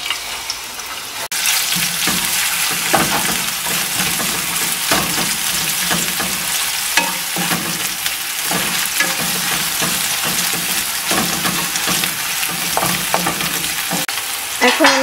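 Chopped onions frying in hot oil in a pan, a steady sizzle with repeated stirring scrapes throughout, close and fairly loud with no talking.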